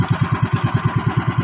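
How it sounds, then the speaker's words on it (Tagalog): A small fishing boat's motor runs steadily out on deep water, a rapid, even low chugging pulse of repeated thumps with a constant mechanical drone, close and loud, with no voices. "May makina, may pambut na tayo."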